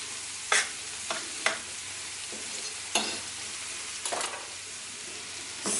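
Potato samosa filling is stirred and mashed in a sizzling pan, with a steady frying hiss broken by several sharp scrapes and knocks of the spoon against the pan, close and without talk.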